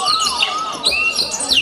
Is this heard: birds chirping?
yes